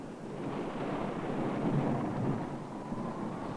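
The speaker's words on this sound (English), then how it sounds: "But there was no denying fierce storms." A fierce storm at sea, heard as a steady, heavy roar of rumbling thunder and rain-like wash that holds fairly constant throughout without distinct claps.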